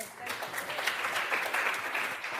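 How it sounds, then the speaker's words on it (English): Audience applause at a university physiotherapy welcome session, a moderate patter of many hands clapping in a room, steady for a couple of seconds with faint voices mixed in. "round of applause"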